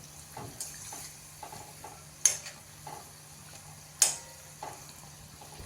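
Mini potato vadas sizzle softly in hot oil, a faint steady bubbling with occasional sharp clicks and light taps, fairly quiet and close, no voices.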